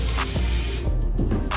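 Spray paint hisses steadily from a can as an artist colors a piece, a close, continuous airy spray with faint clicks of movement underneath.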